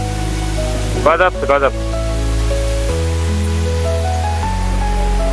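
A waterfall on Jeju Island gives a constant, full rushing roar that fills the whole clip, while a voice briefly exclaims in excitement over it.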